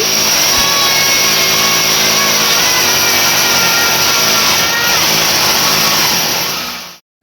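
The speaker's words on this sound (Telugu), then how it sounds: "గోడకి డ్రిల్ వేసే మిషన్ అయితే ఎట్లయితే ఉందండి" Loud, continuous whine of a drilling machine boring into a wall, steady grinding pitch for several seconds before cutting off abruptly.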